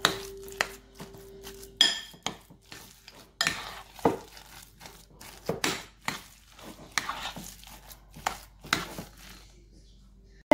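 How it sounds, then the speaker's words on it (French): Potato mixture is worked with cream cheese in a bowl, giving irregular close knocks, scrapes and clinks of a spoon against the bowl, with short pauses between strokes and no voices. "Et je continue de mélanger."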